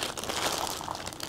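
Brief crisp crinkling of a plastic bag being handled up close, a rapid flurry of small rustles.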